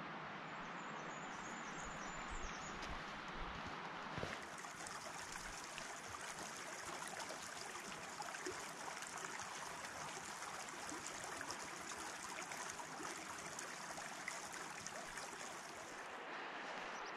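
A mountain stream and waterfall at Corrie Fee rush continuously, a broad, steady roar of water with little variation, no voices over it.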